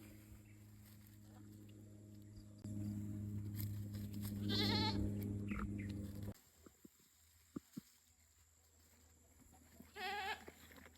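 Two loud, wavering goat bleats ring out close by, several seconds apart, over rustling and background hum with a few soft thumps in between.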